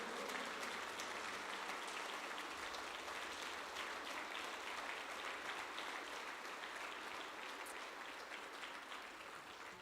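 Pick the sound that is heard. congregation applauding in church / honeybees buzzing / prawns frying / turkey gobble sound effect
congregation applauding in church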